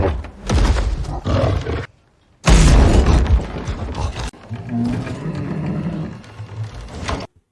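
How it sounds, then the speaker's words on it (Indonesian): Loud, deep roaring of a wild beast from a film soundtrack, in heavy bursts with a short silent gap, then a lingering rumble under dramatic score. "Di dalam pondok, mereka mendengar suara dari hewan buas."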